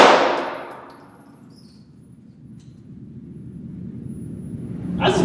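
A sharp gunshot rings off a steel target at a Texas barn gun range, its metallic clang decaying over about a second before a low rumble builds and another shot hits near the end.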